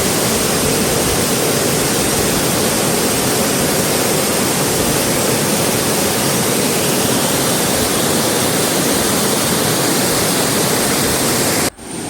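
Aruvikkuzhi waterfall on the Pallikkal stream, a loud, unbroken roar of falling water filling the scene before cutting off abruptly near the end.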